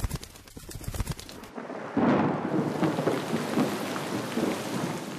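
Heavy rain pours steadily in the open, with a loud rumble of thunder rolling through early on before the downpour carries on as a dense, constant hiss with no voices.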